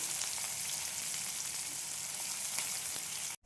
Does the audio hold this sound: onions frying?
yes